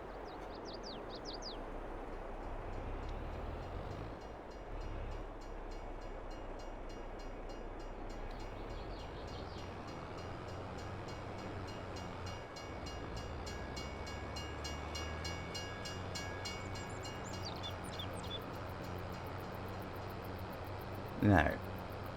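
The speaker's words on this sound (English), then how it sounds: "Oh, here comes the train." A train in Farming Simulator 22 rumbles steadily past for a long stretch, with faint birdsong above it and a brief loud horn-like burst near the end.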